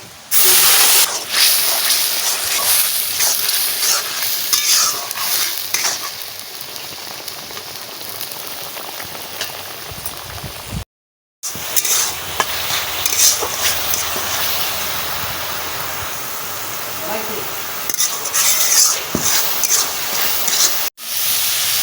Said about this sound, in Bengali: মশলা দেখো সুন্দর করে কষাই দিচ্ছি আর তেল ছাড়িয়ে দিচ্ছে